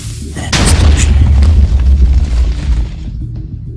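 A TNT cannon in Minecraft sets off a loud booming explosion, a sharp onset followed by a heavy low rumble that rolls for about three seconds before fading.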